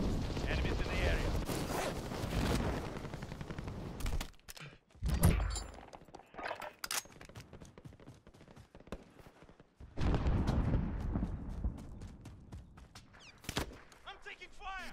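Gunfire in a military shooter video game, bursts of shots scattered through the clip amid game radio callouts and voice lines, with several louder loud stretches and quieter gaps between.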